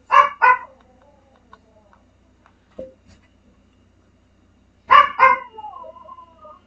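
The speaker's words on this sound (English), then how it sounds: "If that dog would be quiet," A dog barks in short bursts: a quick pair of sharp barks, a lone soft yip, then another pair after a pause, loud and close against a quiet background.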